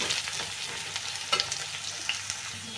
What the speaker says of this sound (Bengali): সামান্য নুন দিয়ে কিন্তু আলুটা আমি ভেজে নিচ্ছি।